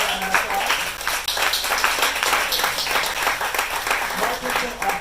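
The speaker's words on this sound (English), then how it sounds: "Go ahead and give him a round of applause." A bookstore audience gives an author a round of applause, continuous dense clapping from a crowded room for about five seconds, steady and fairly loud, with some voices faintly underneath.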